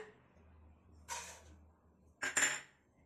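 Pumpkin and sunflower seeds are tipped into a pan with poppy seeds and peanuts for dry roasting for laddu, giving two short, faint rattling pours, one brief and one slightly longer, over near silence.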